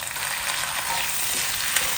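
Chopped onions and tomatoes fry in a pan with a steady, dense sizzle and a few faint stirring scrapes, close and fairly loud with no voices.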